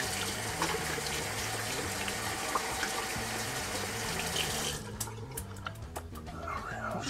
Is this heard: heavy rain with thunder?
no